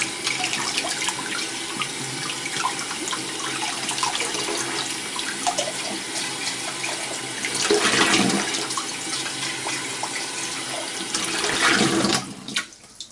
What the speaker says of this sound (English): And then you just rinse it again